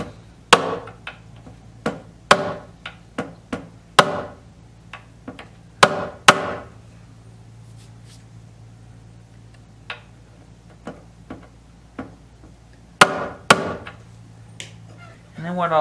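An aluminum piece taps fret ends back down on a 1934 Martin C-2 arched-top guitar, giving sharp, irregular clicks in small clusters with quiet gaps between them, close and distinct.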